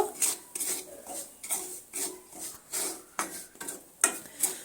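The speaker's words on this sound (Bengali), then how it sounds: "একই তেলের মধ্যে সুজিগুলো ভেজে নিচ্ছি" Semolina fries in oil in a pan over medium heat while being stirred: a steady run of rhythmic scraping strokes against the pan, close and fairly loud, with no talking.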